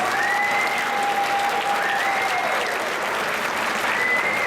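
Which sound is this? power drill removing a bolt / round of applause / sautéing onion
round of applause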